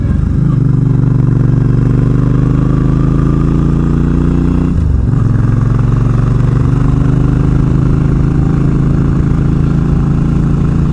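A motorcycle engine runs steadily while riding on Oregon roads, a loud continuous low drone with a brief dip in pitch midway as it shifts or eases off, then resumes its even hum.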